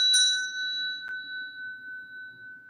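A ritual bell from a high altar rings once with a bright, sustained metallic tone, followed by a lighter second strike, and the shimmer decays slowly with no talk.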